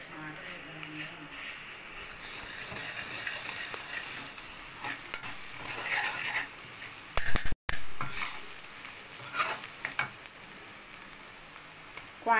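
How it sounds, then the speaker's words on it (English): Ginger garlic paste sizzles and fries in a hot pan for an egg cake curry while a spoon stirs it, a steady crackling hiss with scraping strokes, briefly cut out midway, and a voice talking over parts of it. "now add ginger garlic paste to this."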